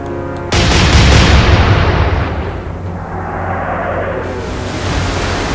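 Warship guns firing shells in the Atlantic Fleet game: a sudden, heavy booming salvo breaks out and then rolls on as a loud, dense rumble, slowly fading to a sustained roar.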